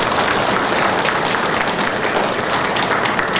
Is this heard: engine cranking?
no